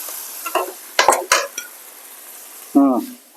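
Mutton frying in a pan for a spicy curry: a few scattered stirring scrapes and clinks of a utensil against the pan over a faint sizzle, with a brief voice near the end.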